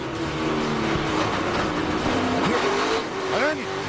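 A pickup race truck runs through crash debris during a 2006 truck race, engine noise and tire sounds mixed under a commentator talking throughout, with brief bumps and scrapes.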